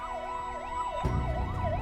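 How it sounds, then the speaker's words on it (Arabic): An ambulance siren wails in a steady rising-and-falling pattern on a street in Romania, fairly loud and nearby, with low traffic rumble swelling in partway through. "في سيارة اسعاف."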